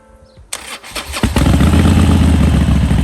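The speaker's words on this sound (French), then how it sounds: "on remet le contact. Et c'est censé démarrer mieux, vu que c'est de l'iridium" A Harley-Davidson Forty-Eight motorcycle with fresh iridium spark plugs cranks briefly, then fires and settles into a loud, steady, rumbling idle close to the microphone.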